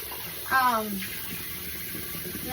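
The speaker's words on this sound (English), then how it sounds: "I'm going to just rinse his face here a little bit" Water rinsing a man's face during a shave, a steady running hiss like a tap flowing throughout, close, with a short voiced sound near the start.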